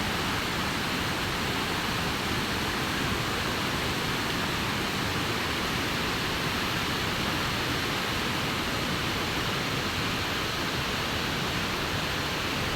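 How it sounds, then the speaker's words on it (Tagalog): Tenoy-an Falls in Bislig, Surigao del Sur, pours in a continuous dense roar of rushing water, loud and close, steady and unbroken with no one speaking. "Yan ang sa baba ng falls"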